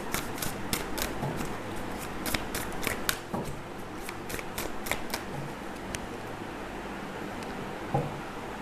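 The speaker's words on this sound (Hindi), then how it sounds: "इस डेक को भी हम करेंगे रैंडमली टू पार्ट्स में डिवाइड।" Tarot deck being shuffled and split into two parts by hand, with a quick run of crisp card flicks and riffles that thins out into sparse, quieter handling.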